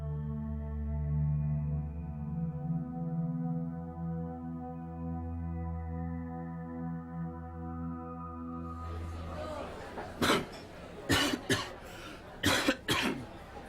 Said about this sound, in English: With every cough and sneeze, he's firing out germs.